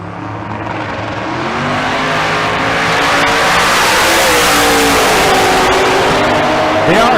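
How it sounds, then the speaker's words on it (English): Two drag race cars launching side by side at a drag strip, engines building from a roar into a loud sustained howl that rises in pitch as they pull away, with a commentator talking over it. "Could be a good side-by-side drag race."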